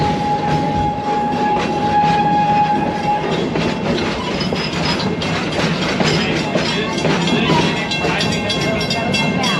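Serengeti Express train ride at Busch Gardens Tampa, with a steady rolling rumble and rhythmic clickety-clack of the cars throughout, a brief tonal horn-like note early on, and faint voices in the background.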